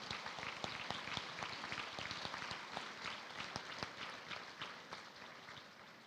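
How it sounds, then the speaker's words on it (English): A graduation presentation ceremony audience claps for newly presented university graduates, a steady wash of many hands sustained through the whole stretch, fairly faint and distant. "Let us give a round of applause to the graduates who have just been presented."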